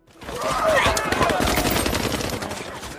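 Soldiers fire guns at pursuing zombies in a horror-comedy film scene, a dense, continuous burst of loud gunfire crackling steadily for about three seconds, with a faint voice mixed underneath.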